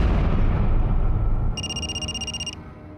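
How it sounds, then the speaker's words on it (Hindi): A landline telephone rings once, a bright, steady electronic trill lasting about a second. It follows a loud, dense rumble that fades out, and no one speaks. "नवीन, तुम्हारा फोन बज रहा है, लैंडलाइन से"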